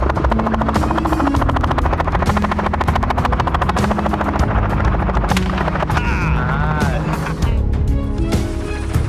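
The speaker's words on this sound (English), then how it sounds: "The helicopter kept circling, moving toward the central area." A helicopter's rapid rotor thump drones continuously and loudly overhead, mixed with bursts of rapid gunfire and booms, a dense, chaotic din.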